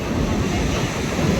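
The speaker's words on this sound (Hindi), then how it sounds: "लहरें दिखाता हूँ मैं आपको कितनी, ये देखो मतलब लहरें ये हैं" Ocean waves roll and break on a beach near Konark, making a loud, continuous surf roar mixed with wind buffeting the microphone.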